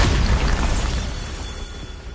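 A Bombarda blast spell goes off in Hogwarts Legacy as a deep, loud boom with a rumbling low end that decays gradually over about two seconds.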